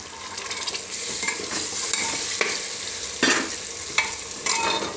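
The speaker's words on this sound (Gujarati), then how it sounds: "થોડીક વાર ટમેટાને ફેરવી લેવું આમાં." Tomatoes with salt and red chilli powder fry in a pan for a Gujarati jackfruit curry, a continuous close sizzle broken by several distinct spoon-stirring swishes and scrapes.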